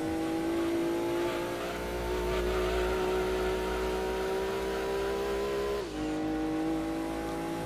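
Subaru Impreza Wagon in the racing game Gran Turismo 2, with a steady droning engine and spinning tires, the engine pitch dropping briefly near the end.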